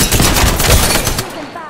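Rapid, loud automatic gunfire in the video game Apex Legends, a close continuous burst of shots that cuts off after under two seconds.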